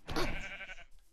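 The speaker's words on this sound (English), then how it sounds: "Oh, there's a sheep. Kill that sheep." A sheep in the video game Minecraft gives a single short, fairly quiet bleat that fades within about a second.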